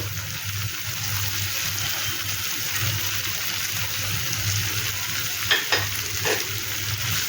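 Ground spice mix tipped into hot oil for an egg malai masala, a steady close sizzle and hiss with a few sharp scraping knocks near the end, no talking.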